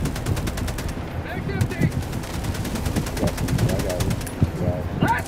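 Rapid automatic gunfire in the video game Helldivers 2 rattles continuously in fast bursts, with voices talking over the shooting.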